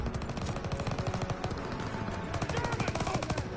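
Rapid automatic gunfire in the World War 2 Call of Duty video game, dense repeated bursts firing steadily through the whole stretch at close range, loud and continuous with no talk.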